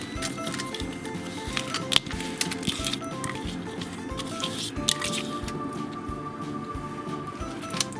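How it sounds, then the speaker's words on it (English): A sticky mixture of cornflakes and peanut butter poured into a Pyrex dish, close-up crunchy squishing and crackling with small clicks, steady and fairly quiet. "So I'm just going to pour in my cornflake mixture."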